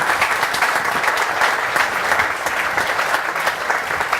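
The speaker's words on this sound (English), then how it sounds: "give all those people a round of applause" Dense, steady applause from an audience at a memorial golf event gathering, loud and sustained throughout with no breaks or voices standing out.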